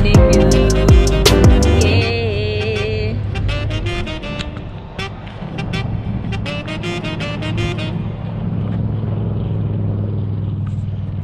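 Cars roll past on a street in the USA, making loud, layered traffic rumble with tonal whooshes and a short toot early on, while people talk over it.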